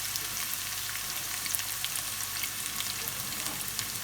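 Onions sauteing in oil over medium heat give a steady, even sizzle with fine crackles throughout, moderately close and unchanging in level.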